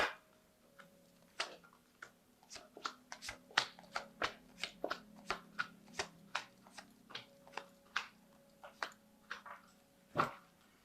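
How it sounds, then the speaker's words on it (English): A tarot deck is given a quick shuffle, heard as a close, crisp series of irregular card snaps and taps over about ten seconds in an otherwise quiet room. "I'm going to just do a quick shuffle and"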